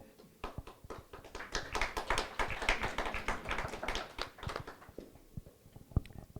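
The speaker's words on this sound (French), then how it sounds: "Les applaudissements significatifs" Applause from an audience at a lecture on Pascal: a dense patter of many hands clapping that rises and then thins out, with a few scattered claps near the end, heard from a moderate distance.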